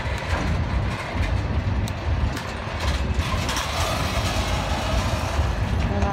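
A CSX freight train rolls past close by in a rail yard, a loud steady rumble of heavy cars with rhythmic clacking over the rails and no talk.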